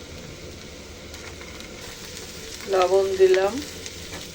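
Chili, onion, garlic, cumin and spices sizzle in hot oil in a pan, a steady close frying hiss throughout, with a voice speaking briefly near the end.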